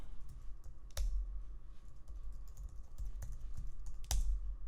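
Irregular clicks of fingers typing a passphrase on a computer keyboard, a few sharp keystrokes spaced out with a couple of louder taps, close and alone in a quiet room.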